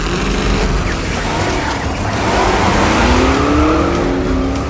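Toy monster trucks racing at a children's race, a steady loud rumble of motors with rising whines and scraping tire noise throughout, no voices.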